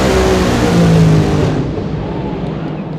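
A 10,000-horsepower drag racing car thunders off the line with a dense, very loud roar that fills the whole clip and eases slightly as it pulls away down the track.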